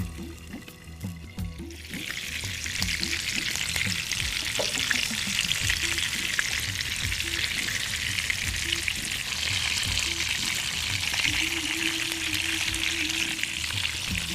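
Pomfret fish fry in a pan with lemon and coriander. After a brief quieter start, a loud, even, close sizzle crackles continuously, and a faint tonal hum runs beneath it. There is no talk.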